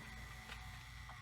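A Sanyo VHR-H519 VHS video recorder fast-forwarding a tape, giving a faint, steady mechanical whir with light ratcheting clicks from its gears, heard alone and briefly.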